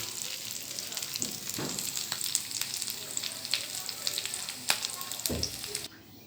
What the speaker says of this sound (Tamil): இது ஒரு நிமிஷம் வறுபடட்டும் தேங்காய் நல்ல மணமாக இருக்குது நெய்யில் வறுக்கிறதுனால